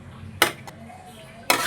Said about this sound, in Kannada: ನೋಡ್ರಿ, ನಮ್ಮ ಮನೆಯವ್ರಿಗೆ ಬಾಕ್ಸಿಗೆ ಹಾಕ್ಕೊಡ್ತಾ ಇದ್ದೀನಿ